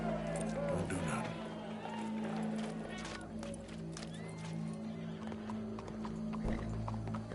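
Horse hooves clip-clopping in the video game Red Dead Redemption 2, a steady run of hoofbeats under a layer of game ambience and a low hum, with occasional whinnies and people talking over it.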